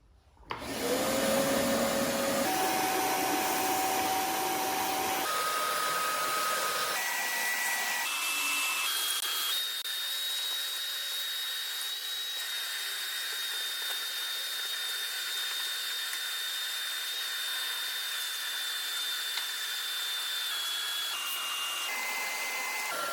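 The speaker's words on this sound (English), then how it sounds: "So let's get her vacuumed out." A vacuum cleaner runs steadily through the interior of a car, an 82 Mustang GT, its motor whine climbing in pitch in steps as airflow changes, then holding a loud, continuous drone close by with no talking.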